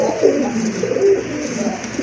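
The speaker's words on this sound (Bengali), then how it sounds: "তাদের জন্য খুবই ভালো মানের এক জোড়া খয়রা গলা কবুতর রয়েছে" A pair of brown-necked Giribaz pigeons cooing close by, soft throaty coos repeating in a low rumbling rhythm against faint background noise.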